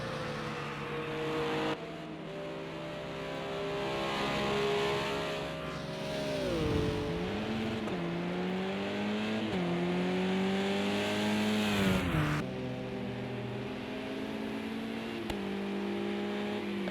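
Race car engine in a racing video game motoring down the pit lane at Imola, a steady loud drone with clear harmonic whine, pitch dipping and rising as it slows and picks up speed, no talk.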